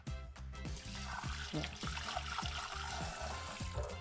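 Cold tap water runs steadily over fresh ginger being rinsed in a kitchen sink, a continuous close splashing stream with some rhythmic rattling underneath, no speech.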